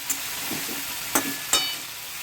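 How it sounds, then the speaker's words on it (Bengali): Ridge gourd pieces dropped into a frying pan of sizzling prawns: a steady low hiss of hot oil with a few sharp bursts as pieces land, close and fairly quiet, with no talking. "এই ঝিঙেগুলো আমি এর মধ্যে দিয়ে দিচ্ছি"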